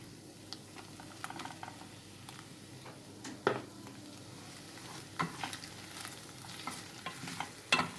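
Okra frying with tomato paste in a pan, heard as a quiet background sizzle broken by scattered scrapes and knocks of stirring, close but faint.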